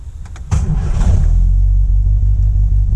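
A 1960 MGA sports car engine cranks briefly via a pull start button, catches, and settles into a loud, throbbing idle with a deep rhythmic rumble.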